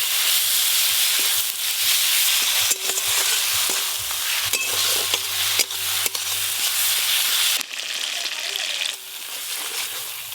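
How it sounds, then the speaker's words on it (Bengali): Mustard and dry red chilli paste with chopped tomato, turmeric and salt sautéing in oil for a goldfish curry, a loud continuous close sizzle with occasional stirring clatter and a faint steady hum. "গোল্ডেন মাছ রান্নার জন্য মশলা একদম ভালো করে কষানো হয়ে গেছে।"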